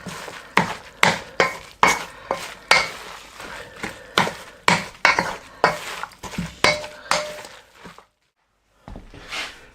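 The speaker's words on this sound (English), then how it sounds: "But it's well worth just giving it a good stir." A salted mixture is stirred in a bowl, a steady run of loud, close scraping clinks about twice a second before a short pause and one last knock.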